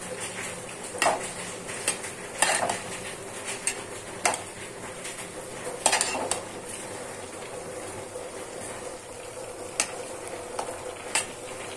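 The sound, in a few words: stirring mushrooms with salt in a pan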